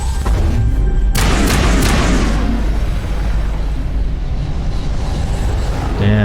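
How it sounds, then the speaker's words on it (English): Incendiary rounds fire in the Mass Effect video game with a few loud, sharp bursts near the start, followed by a long, heavy rumbling decay that keeps the whole stretch loud. "These incendiary rounds are really powerful."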